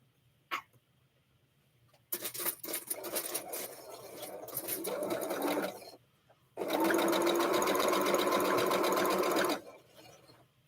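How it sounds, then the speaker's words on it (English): Sewing machine chain-stitching quilt pieces for a shamrock block, running in two long loud bursts of steady rapid stitching separated by a brief pause, with a few small clicks and handling sounds before it starts. "I get them on here partially. I'm chain sewing them."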